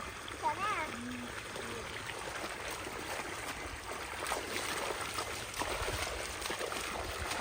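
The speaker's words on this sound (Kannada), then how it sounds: "ನಮ್ಮ ಅಕ್ಕನು ಮತ್ತೆ ಲಾಸಿ ಇದ್ದು ಆಟ ಆಡ್ತಾವ್ರೆ ನೀರಲ್ಲಿ" People splashing and playing in water outdoors at a farm, with steady running and splashing water under voices and brief calls.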